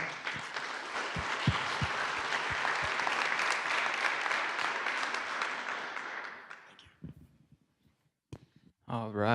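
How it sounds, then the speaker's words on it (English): Audience applause at a community gathering rises in a broad, steady wash of clapping for about six seconds, then thins out into scattered claps before a voice begins speaking. "A big round of applause."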